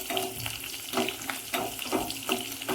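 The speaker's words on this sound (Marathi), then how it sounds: "तर याच्यामध्ये मी अशी मिरची छान अशी तळून घेणार आहे, तुम्ही पाहू शकता।" Green chillies fry in hot oil with cumin, producing a close, bright sizzle pulsing with repeated stirring strokes about every half second.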